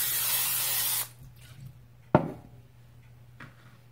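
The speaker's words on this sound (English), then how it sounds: "So I'll just take some of this non-stick spray" Non-stick cooking spray hisses steadily for about a second over a hot skillet before chicken quesadillas are cooked, then stops, followed by a sharp clack from the pan and faint kitchen noise.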